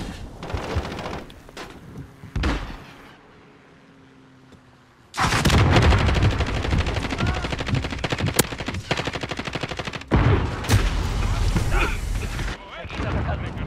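Loud, rapid automatic gunfire in the video game Call of Duty: Modern Warfare rattles in long sustained bursts with explosive bangs, under occasional speech, after a quieter opening stretch.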